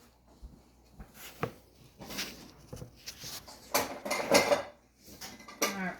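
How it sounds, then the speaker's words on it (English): Metal cookie cutters clink and rattle against each other in a series of light, scattered knocks and jingles, close and fairly quiet, with no talking. "And now I'm going to just get my cookie cutters."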